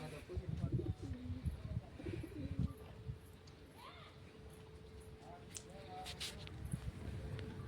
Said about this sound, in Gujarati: જોઈ શકો છો મિત્રો સણતા સણતા પાછા ઉપર વહી ગયા છે બધા કબૂતર.